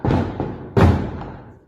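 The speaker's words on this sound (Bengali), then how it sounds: "বাজি ফাটছে পিছনে," New Year firecrackers burst in the background, two muffled booms about three-quarters of a second apart, each followed by a fading rumble.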